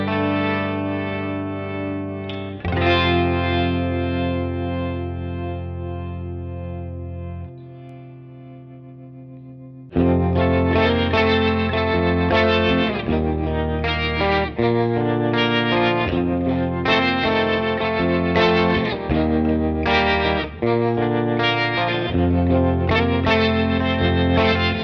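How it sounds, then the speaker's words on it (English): Walrus Audio Luminary V2 octave generator pedal with its flutter control engaged on a guitar, sustained chords shimmering and wobbling with octave layers; a held chord fades, then brighter strummed chords ring out loud and close, no voices. "But this is the Flutter Control as it is."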